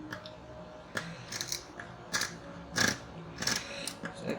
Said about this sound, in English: I'm going to take my scissors and then I'll cut this out